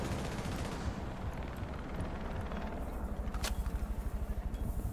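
Rapid automatic gunfire from a Rainbow Six Siege tournament match, a dense stream of shots across the clip that turns into distinct rhythmic bursts near the end, with no talk over it.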